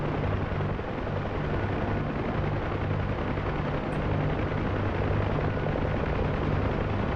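Helicopter rotor in the DCS flight simulator game, a loud continuous chopping drone with a deep steady throb, filling the whole stretch without a break.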